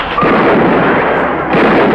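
A single loud, booming warning gunshot that rolls into a rumbling echo filling the whole moment, fired by prison guards.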